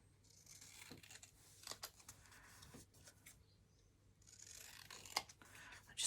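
Scissors trim paper tickets at a craft desk in quiet, close snips and crisp paper rustles, spread irregularly across several seconds.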